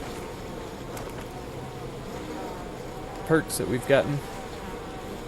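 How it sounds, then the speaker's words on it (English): Bees buzz faintly as a steady drone in the video game We Happy Few, while someone speaks over it partway through. "Bees."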